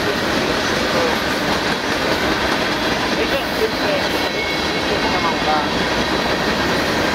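A freight train rolls past a crossing in Reidsville, North Carolina, as a loud, continuous rumble with rail clatter that fills the whole stretch, with faint talk mixed in.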